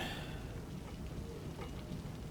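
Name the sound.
rain in a video game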